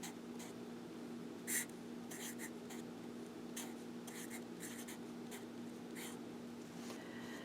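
Pen writing out a math formula on paper, faint scratchy strokes in short irregular bursts over a quiet hum, close by and without speech.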